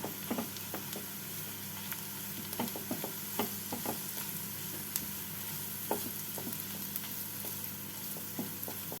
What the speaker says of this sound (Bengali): আদা রসুনটাকে পেঁয়াজের সাথে ভেজে নিচ্ছি